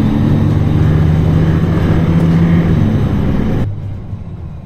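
A free shuttle bus runs from Hotel Le Meridien Towers to the Makkah bus station, its engine and road noise a loud, steady close rumble that drops away abruptly near the end.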